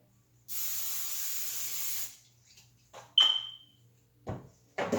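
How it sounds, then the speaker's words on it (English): Butter cooking spray hisses steadily onto a small pan for about a second and a half, followed by a sharp sizzle and a few clinks and knocks. "we are going to put on some butter spray"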